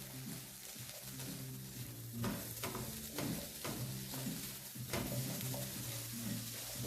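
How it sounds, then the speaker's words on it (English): Spices, chickpeas, onion and garlic frying together in a pan, a quiet steady sizzle broken by a few stirring scrapes and crackles, close up with no talking. "just cook off those spices, slightly toast our chickpeas and get that onion and garlic mixed in"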